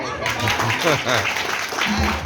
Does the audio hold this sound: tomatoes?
no